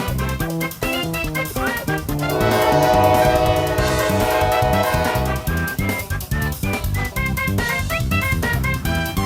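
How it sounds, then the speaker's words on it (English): A CSX intermodal freight train rolls past loudly with a steady clatter of wheels, and its horn blares in a long sustained blast midway through the pass. "This is a CSX intermodal train"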